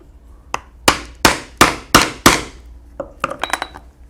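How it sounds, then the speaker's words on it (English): A hammer drives a metal punch through a leather holster on a punching board: five loud, evenly spaced strikes, then a quick run of lighter, sharper taps. "I'll need to put a punching board underneath and punch this all the way through"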